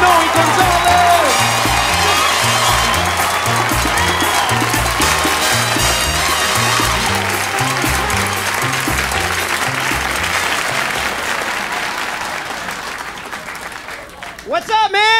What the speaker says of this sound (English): Give him a big round of applause, folks.